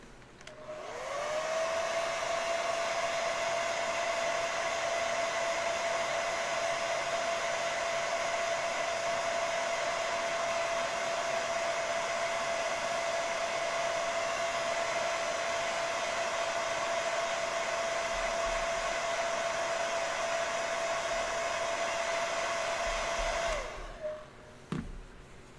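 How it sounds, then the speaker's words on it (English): A hair dryer runs steadily for about 23 seconds while drying a handmade foam hand, a loud constant whir with a single sustained tone that spins up at the start and winds down near the end, with no talking. "let's get a hair dryer on this real quick."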